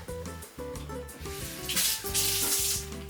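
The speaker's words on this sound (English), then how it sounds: "Rinse it off under cold water." A halved onion is rinsed under a cold running kitchen tap. The water rushes and splashes steadily and grows stronger toward the end, with background music playing underneath.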